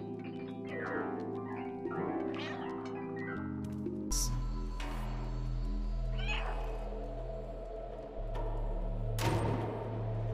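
A cat meows repeatedly in the video game Stray, several drawn-out, confused-sounding cries over a droning musical background, fairly close and distinct.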